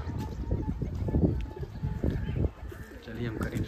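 Low, throaty cooing of domestic pigeons, several birds overlapping in soft repeated bursts, close by with a faint murmur of background noise.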